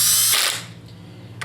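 An impact wrench briefly rattles and buzzes while tightening a spark plug on a 2005 Honda Accord 3.0 V6, a short, close mechanical burst that fades into a quieter tail with a faint click at the end.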